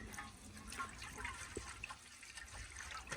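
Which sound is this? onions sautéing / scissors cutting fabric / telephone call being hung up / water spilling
water spilling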